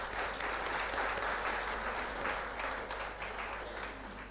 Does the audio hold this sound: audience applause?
yes